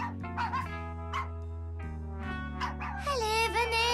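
Several dogs in a cartoon trick-training scene give short yips and barks over a steady musical background, with a voice joining near the end.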